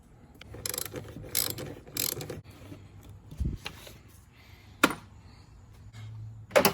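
A swivel ratchet clicks in quick rasping bursts while backing out a bolt on a Jeep Patriot, several short close ratcheting runs separated by pauses and a few sharp metallic knocks.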